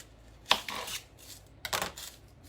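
A kitchen knife slices twice through an onion on a cutting board, trimming off its top and bottom, each cut a close, crisp crunch with a quiet pause between.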